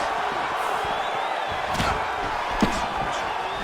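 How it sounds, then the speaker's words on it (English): Crowd noise from a UFC fighting video game, a steady roar of reaction that swells briefly with each exchange of strikes, with sharp impact-like accents and faint commentary underneath. "you hear the crowd react every time they come together"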